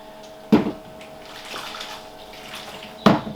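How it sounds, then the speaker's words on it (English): Hot water from a boiled kettle splashes into a tub in two short bursts, with a softer trickle between them, close by. "So I boiled a kettle earlier, pour that in."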